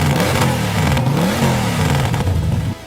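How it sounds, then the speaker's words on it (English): A motorcycle engine revs loud and close, its pitch rising and falling through several throttle blips before cutting off abruptly near the end. "He revs his motorcycle"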